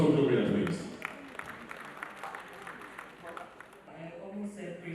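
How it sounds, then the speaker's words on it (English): An award dinner audience applauds for Gloria, a burst of clapping that starts loudest and thins out, with talking and crowd murmur mixing in beneath and near the end. "A round of applause for Gloria, please"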